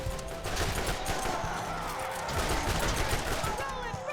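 Avenger semi-automatic gun in Borderlands, firing a rapid string of sharp, punchy shots close up, with mechanical clatter and game effects layered over the steady barrage.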